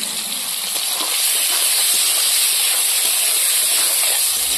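Salted prawns fried without turmeric hiss steadily in hot oil, close and loud, the sizzle swelling a little after the first second and then holding even.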